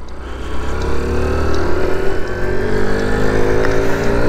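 A 2013 Suzuki Birdie 50 motorcycle climbs uphill at about 45 km/h, its small engine buzzing steadily and close, with a pitch that slowly rises as it pulls.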